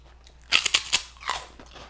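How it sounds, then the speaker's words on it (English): Biting into a crispy fried snack, loud close crunches in a quick burst followed by a few quieter chewing crackles. "let's give the fried ones a taste"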